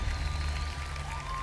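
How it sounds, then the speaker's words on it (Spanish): Studio audience applause at a televised talent show semifinal, a brief, steady roar of many hands clapping with a faint tone underneath and no speech. "fuerte el aplauso para Piero."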